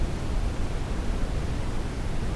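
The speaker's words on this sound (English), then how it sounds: "brown noise might be suitable for those who want something deeper." Continuous brown noise, a deep rumbling hiss weighted toward the lows with softened highs, holds level and constant throughout, with nothing else heard.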